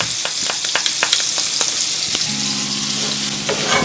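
Chopped onion and garlic fry in bacon fat in a pan, a close crackling sizzle broken by sharp popping spatters and the scrape of stirring, with no one speaking.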